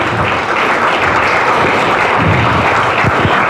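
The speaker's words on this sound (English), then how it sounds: "Another round of applause" A large audience at a high-level AU, Nigeria and Uganda dialogue applauds the arrival of Nigeria's President Muhammadu Buhari, a loud, continuous wash of clapping and crowd noise that holds steady throughout.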